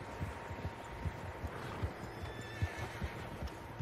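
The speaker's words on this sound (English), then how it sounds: "Horses, quite a few of them." Several horses in Red Dead Redemption 2 give rhythmic, muffled hoof thumps in a steady clip-clop, faint and unaccompanied by speech.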